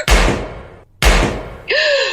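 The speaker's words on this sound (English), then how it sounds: "I think that was 2 gunshots." Two sharp comedy gunshot effects crack out about a second apart, each booming and then decaying. A brief whistling tone follows.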